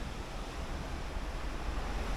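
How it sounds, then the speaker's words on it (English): Ocean waves seen from a balcony cabin on the MSC Divina cruise ship, a steady broad rushing wash mixed with wind buffeting the microphone, continuous and fairly loud with no voices. "I could just sit here and watch the ocean go by for hours and hours."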